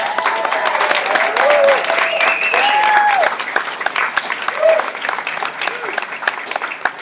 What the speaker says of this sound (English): I just want to give a round of applause for Crystal for all that